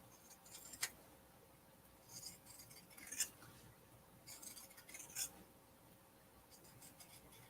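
Pinking shears cut through fabric for a zipper pouch in quiet, close snips and crisp scrunching bursts spaced irregularly over a faint background hiss.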